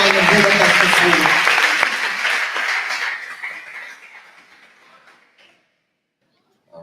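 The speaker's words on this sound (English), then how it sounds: "Let's give Mr. Strong a hand." A concert audience at a summer music camp applauds loudly for a visiting ensemble director, the dense clapping fading gradually over several seconds into near silence.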